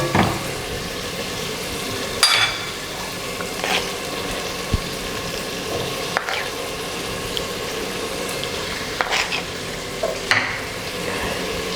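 Curd is stirred into onions and tomatoes frying in a pressure cooker for chicken biryani: a steady moderate sizzle under intermittent spoon scrapes and clinks against the pot, with no talking.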